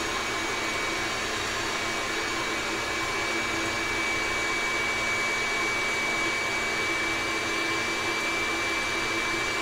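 A stand mixer whips French macaron meringue, giving a steady, loud motor whir with a broadband hiss that holds unchanged for the whole stretch, with no voices.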